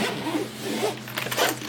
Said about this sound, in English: So, zip it up.